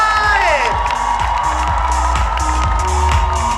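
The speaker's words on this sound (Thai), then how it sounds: "ขอเสียงปรบมือดังๆเลย" A crowd at a fan event cheers and applauds loudly, with clapping, whoops and shouting packed together, while a steady tone and scattered voices carry through the din.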